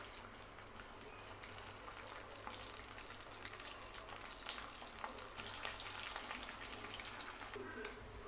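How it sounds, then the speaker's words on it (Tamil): Masala-coated fish frying in a pan, a faint steady sizzle with small crackles and spits throughout, fairly quiet and close, without speech. "மீன் பாருங்கள் நல்லா மசாலா பிடிச்சி நல்லா ஃப்ரை ஆயிடுச்சு"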